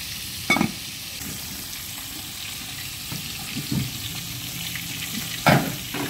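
A pot of soup with kulitis greens bubbling, a continuous low boiling hiss broken by a few louder clinks and knocks, no speech.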